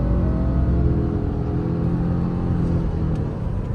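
A 2023 Subaru Ascent Limited with a CVT pulls away under acceleration, a steady low engine drone and road rumble heard from inside the cabin, loud and continuous without distinct gear shifts.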